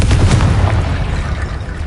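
A Confringo explosive fire spell goes off in Hogwarts Legacy, a close, heavy boom with a booming low rumble that starts at once and slowly decays over about two seconds.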